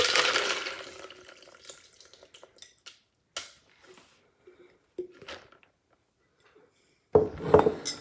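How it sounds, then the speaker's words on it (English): Tea splashes and trickles into a pitcher at the start, followed by scattered light clinks and taps, then a brief louder burst of pouring near the end. "So I'm gonna pour this into the pitcher."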